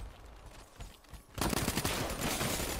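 The Pharaoh gun in Call of Duty Black Ops 3 multiplayer opens up after a quieter stretch, letting loose a loud, fast, continuous volley of crackling gunfire that keeps going without pause.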